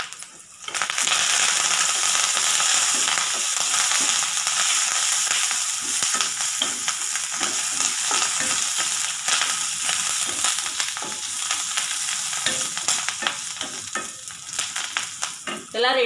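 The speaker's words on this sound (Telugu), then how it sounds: "కరివేపాకు కూడా వేయించుకోవాలి." Curry leaves crackle and sizzle in a hot pan of oil, a dense, loud, continuous frying hiss with brief pops and stirring scrapes, no voices.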